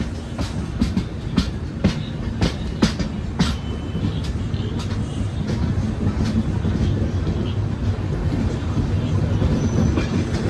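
An Intercity Express train rolls slowly into a station platform on a loop line, its wheels giving spaced clacks over the rails above a low, steady rumble that grows slightly louder.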